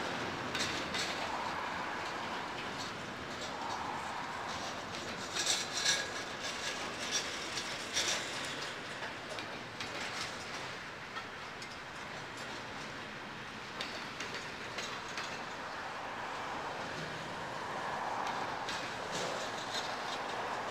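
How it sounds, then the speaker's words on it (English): CSX freight train led by an AC6000 locomotive rolling past, with a continuous rumbling roar and repeated clickety-clack of wheels crossing a rail joint, steady and close for about twenty seconds. "Hear the clickety clack of the wheels? It's hitting that joint right there."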